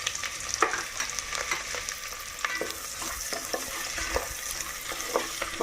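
Thinly sliced onion, with chopped green chilli, frying in a pan as it is stirred: a steady close sizzle with sharp scraping clicks of the spoon at uneven intervals, no voices.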